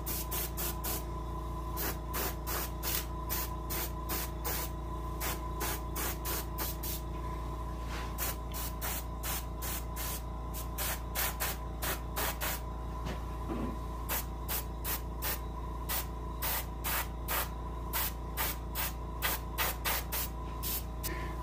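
Aerosol spray paint applied to a brown bullhead catfish mount in a taxidermy workshop, heard as rapid repeated short hissing bursts over a steady low hum, close and alone.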